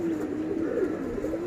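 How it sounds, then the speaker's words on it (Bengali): Young pigeon chicks bred from tournament racing pigeons coo in a soft, continuous warble, close by and alone with no talk. "কবুতরের বাচ্চা।"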